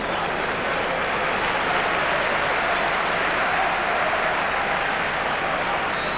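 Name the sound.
crowd applauding at a football match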